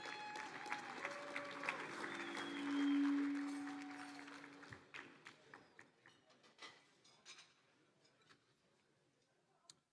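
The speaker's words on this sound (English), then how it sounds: "Some applause." Audience applause at a fraternity's final banquet in Tucson following a choir performance: a broad patter of clapping from a dinner crowd that swells early, then thins into scattered claps and fades.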